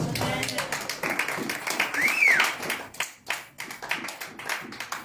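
A church congregation in Paris claps in a crisp, uneven burst of many hands, with sharp, close, rhythmic slaps that thin out and return, while voices speak and a high whistle or cry rises briefly.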